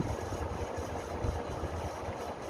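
A 1970s CG HB 56-inch (1400 mm) ceiling fan turns at about 265–270 RPM, producing a steady, soft whirring hum with a faint low rumble, continuous and close.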